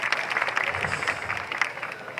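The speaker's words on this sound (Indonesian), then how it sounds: "tepuk tangan untuk kebersamaan kita pada malam hari ini" An audience claps at an evening Balinese Calon Arang comedy performance, producing a dense, continuous patter of applause that holds steady for a couple of seconds, with no talking over it.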